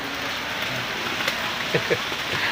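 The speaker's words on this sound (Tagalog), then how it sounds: "Lakas ang ulan eh." Steady, dense rain hisses continuously throughout, with a few faint thumps and muffled sounds beneath the downpour.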